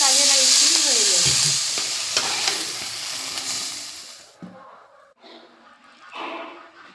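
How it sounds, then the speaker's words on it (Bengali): Red amaranth greens stir-fried in a pan, a loud hissing sizzle with scraping stirs that fades out after about four seconds, followed by quieter clinks and a faint dog whimper. "এবারে রান্না করব লাল শাক"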